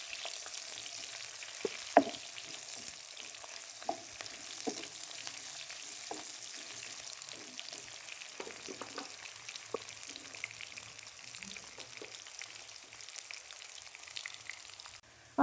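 One large onion and two garlic cloves fry in hot oil for a Hindi aloo shimla mirch sabzi, giving a steady soft sizzle with scattered pops and occasional stirring clicks, close and alone without any talk.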